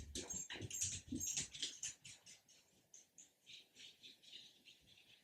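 A dog barks excitedly at a package delivered to the front door, a burst of several sharp, loud barks at the start that trail into quieter, repeated yaps and patter.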